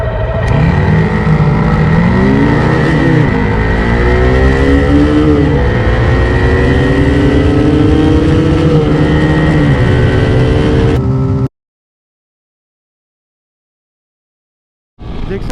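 A Bajaj Pulsar N250 motorcycle accelerates hard from 0 to 100 km/h, its engine note climbing loud and close through several gear changes, then cutting to silence before briefly returning.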